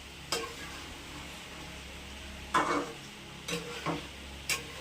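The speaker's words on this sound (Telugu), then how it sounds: "అల్లం వెల్లుల్లిపాయ కూడా వేగింది" Ginger-garlic paste frying in a pan for chicken fry, a low steady sizzle broken by a few scraping stirs and clinks of a spoon against the pan.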